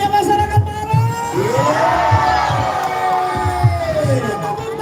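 A large crowd of Maros residents yells, whoops and cheers together at a nighttime sahur patrol and drum-beating contest, with sustained rising and falling shouts, loud and close, above steady background noise.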